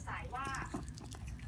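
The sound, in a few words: dog chewing food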